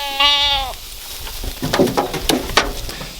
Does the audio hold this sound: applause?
no